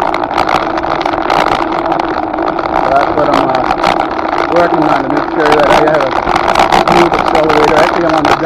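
A mobility scooter running on only one of its two motors gives a steady mid-pitched electric whir and drone that persists throughout, with a person talking over it.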